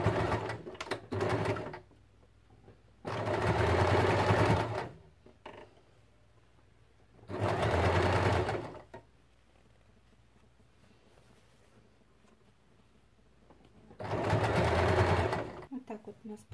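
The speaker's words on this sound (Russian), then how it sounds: "Начинаем пристрачивать." A sewing machine stitches a ruffled fabric bumper with carriage-style tufting, running in three steady bursts of a few seconds each with quiet pauses between, close and clear; faint movement is heard during the pauses.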